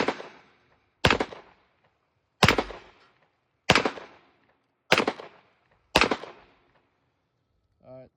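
A Hi-Point JXP 10mm pistol with a threaded barrel fires six sharp, loud shots at uneven intervals of about one second, each one followed by a short decaying echo outdoors. A brief faint sound comes at the end.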